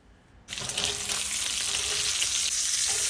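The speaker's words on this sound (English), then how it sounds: "we're going to take the sausages, the sliced sausages, and we're going to cook them up until they almost get like a little burnt appearance on them" Sliced sausages hit hot olive oil in a pan for pasta jambalaya, bursting into a loud, steady sizzle after a quiet half-second start, with nobody talking.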